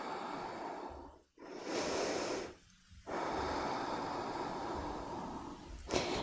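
Deep, slow breathing during a yoga class, with long steady inhales and exhales close to the listener, broken by a couple of brief pauses, and no one speaking.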